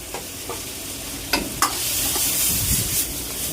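Cashew powder is stirred into a sizzling dish in a pan, with a steady frying hiss and a few sharp scraping clinks of the spoon against the vessel, close and fairly loud.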